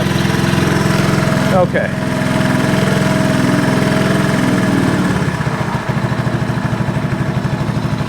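Honda TRX 125 ATV engine running at a steady idle, loud and close with a rhythmic chugging pulse that dips briefly and roughens while the throttle is adjusted; someone speaks briefly.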